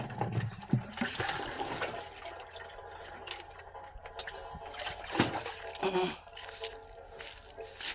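Water gushes and splashes as a bucket is poured out, with bursts of sloshing and faint voices in the background.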